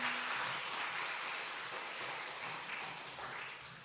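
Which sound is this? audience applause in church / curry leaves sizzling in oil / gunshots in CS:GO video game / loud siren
audience applause in church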